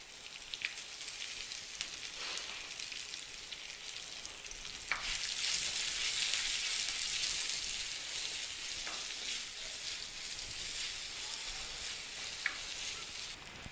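Finely chopped green chillies and onion pieces frying in hot oil for upma, a continuous close sizzle that swells noticeably about midway as more goes in, then holds steady with no voices.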